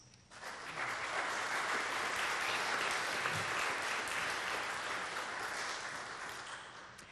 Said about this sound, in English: would love to thank them with a round of applause